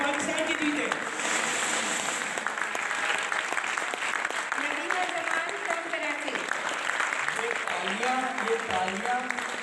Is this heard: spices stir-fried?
no